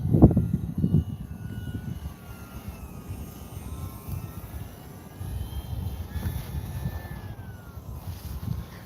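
An RC model airplane passes overhead with a thin, wavering motor whine gliding up and down in pitch over outdoor wind rumble and a few thumps near the start.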